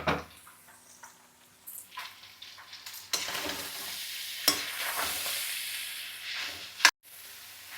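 Onions, green chillies and chicken keema sizzle in an oily pan, with stirring scrapes breaking in; the frying hiss starts quiet, then swells loud and steady midway and runs on with a sharp clatter near the end.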